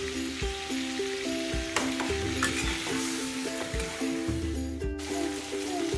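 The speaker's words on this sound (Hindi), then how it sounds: "अब हम इसमें अपना अदरक लहसुन का पेस्ट और हरी मिर्च का पेस्ट शामिल करके इसको अच्छे से भूनेंगे।" Ginger garlic paste and green chili paste frying and being stirred in a pan for dhaba-style chicken karahi, a steady close sizzle with scraping stirs, under soft tonal background music.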